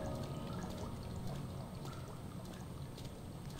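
Water flows in Amnesia: The Dark Descent as a continuous pouring, rushing wash, steady and moderately faint, with no other sounds over it.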